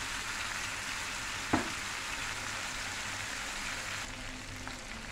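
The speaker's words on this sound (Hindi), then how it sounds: "अब एक साइड से 4-5 मिनट हमने फ्राई करना है" Chicken pieces frying in a pan for Afghani karahi, a steady close sizzle throughout with one brief sharp clink early on, no voices.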